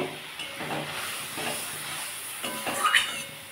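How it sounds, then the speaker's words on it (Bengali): A rohu fish curry made with yogurt and a little sugar boils in a pan, giving a steady soft hiss of steam and bubbling, with a slightly louder burst near the end. "এটা আমার ফুটছে।"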